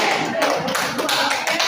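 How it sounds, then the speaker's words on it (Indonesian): A group of people clapping hands together in a classroom, a few quick rhythmic bursts of claps close by, with voices faintly mixed in. "tepuk tangan"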